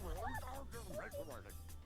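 Several quick barks and yips from a small dog in the game Neighbour Back From Hell, close and fairly loud, mixed with speech over a low background drone.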